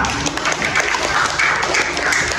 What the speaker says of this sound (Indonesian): tepuk tangan dulu untuk Kalista